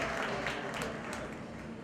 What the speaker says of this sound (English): Ladies and gentlemen, could we have a huge round of applause for her yet again?